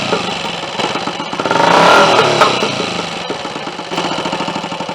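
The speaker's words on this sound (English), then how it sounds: "when I rev the engine" Royal Enfield 250 single-cylinder motorcycle engine being revved after servicing, close and loud, climbing to a peak then settling back toward a throbbing idle, with no voices.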